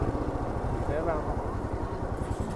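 A motorcycle engine idles with a low, steady throb as the bike is parked in a beach parking area, while a person talks over it.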